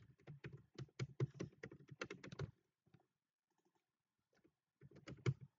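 Rapid clicking of a computer keyboard while a title is typed, a dense burst of keystrokes for about two and a half seconds, a few faint taps, then another short burst of typing.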